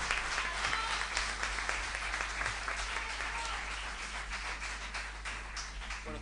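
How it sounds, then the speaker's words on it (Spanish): Audience applause at a live concert, a continuous crowd of clapping hands sustained across the whole stretch over a low steady hum, with voices faintly mixed in. "Fuerte el aplauso."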